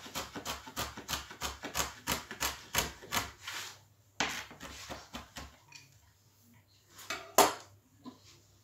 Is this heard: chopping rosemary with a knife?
yes